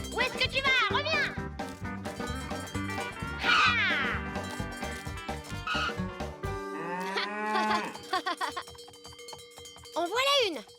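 Cartoon cows on a farm moo repeatedly in the French-dubbed PAW Patrol animated children's show, mixed with bright background music, a cowbell-like clink and children's voices talking over them.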